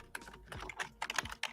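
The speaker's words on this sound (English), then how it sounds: "I was typing" Quick, irregular keystrokes on a computer keyboard, faint and close, a short burst of light clicks with no speech.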